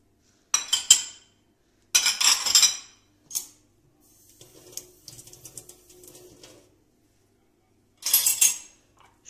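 Dishes and cutlery go into a home dishwasher in bursts of bright clinks and clatters, close by, with short pauses between each load and softer rattling in the middle.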